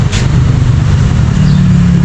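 A Toyota Wigo's small engine idles with a steady low rumble, loud and close, while people chat nearby in Tagalog.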